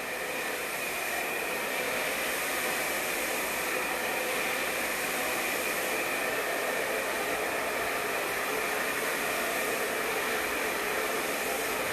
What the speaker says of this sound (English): recommend using a round brush when you blow dry these in